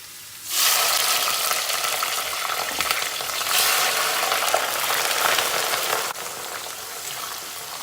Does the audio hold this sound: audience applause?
no